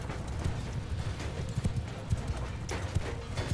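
Horse hooves clatter in a rapid, uneven clip-clop during a battle in Mount & Blade II: Bannerlord, close and steady throughout, with any whinny barely noticeable beneath the hoofbeats.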